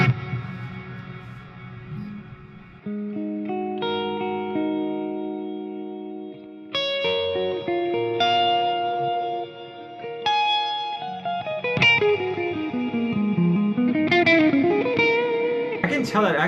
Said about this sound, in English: very ambient reverb